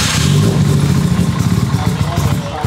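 A Nissan GT-R engine cranks over and fires, giving a loud, continuous low mechanical rumble with rapid rhythmic pulsing throughout.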